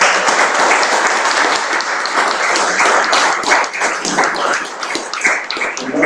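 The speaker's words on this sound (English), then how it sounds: "So can we give him a big round of applause?" Loud, full applause fills a room at an evening tribute to poet Seamus Heaney, many hands clapping in a thick, continuous patter that swells and eases slightly over several seconds.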